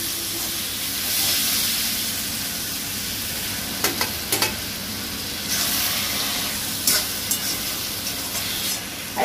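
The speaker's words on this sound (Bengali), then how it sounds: "এই লোটে মাছগুলি এবার আমি দিয়ে দিচ্ছি এর মধ্যে" Bombay duck fish sizzle steadily in a hot pan with a sautéed masala, giving a constant close hiss. A few light clinks of stirring break through the sizzle.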